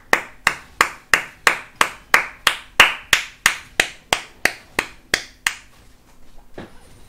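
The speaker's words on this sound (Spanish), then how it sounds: "Aplauso." Slow, deliberate clapping from a single person during a League of Legends LCS esports watch-along, about fifteen loud, evenly spaced claps close to the microphone, followed by a quiet stretch at the end.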